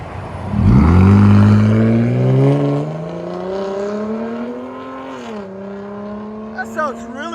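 A RAM 1500 with a 3.6L V6, its resonator deleted and a race muffler fitted, revs up sharply. A loud rising exhaust note settles into a long falling drone, followed by a few small pops and blips.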